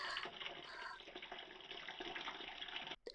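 Water pours steadily into a pot of soaked chana dal for cooking, a continuous close splashing fill that stops abruptly near the end.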